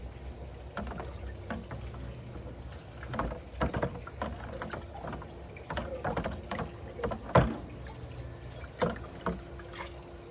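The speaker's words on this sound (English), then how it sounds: "And like every day we rinse our container out." Water sloshing and splashing inside a container, with irregular knocks and swishes close by, fairly quiet overall, no talking.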